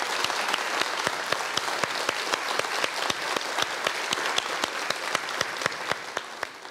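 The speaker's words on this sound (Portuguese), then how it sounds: "Uma salva de palmas para eles, para esses artistas." An audience claps for two ceramic artists, a sustained, even patter of many hands with sharp individual claps standing out, with no talking over it.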